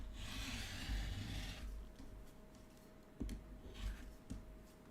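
Ivory quilt fabric being trimmed along its stitching line, heard as soft rubbing and rasping cutting strokes with a few sharper taps, close and fairly quiet, with no voices.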